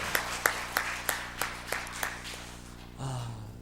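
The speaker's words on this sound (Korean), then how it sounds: "우리 다시 한번 큰 격려와 사랑의 박수를 보내주시도록 하겠습니다" At a Sunday church service, the congregation claps after a song in a slow, evenly spaced rhythm of about seven distinct claps. A voice then begins speaking.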